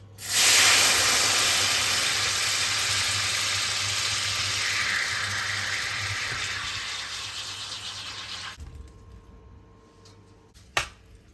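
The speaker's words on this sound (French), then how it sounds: "Je vais mettre un peu d'eau des pâtes." Pasta water poured into hot leftover guanciale oil in a frying pan bursts into a loud, close hiss and sizzle that slowly fades over several seconds, then cuts off, followed by a sharp clink.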